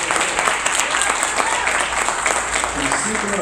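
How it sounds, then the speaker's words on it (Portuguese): Steady applause from a church conference crowd, dense clapping sustained throughout at a fairly loud level. "Acho que isso merece um aplauso ao Senhor"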